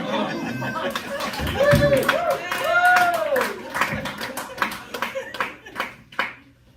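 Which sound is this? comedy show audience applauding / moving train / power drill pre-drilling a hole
comedy show audience applauding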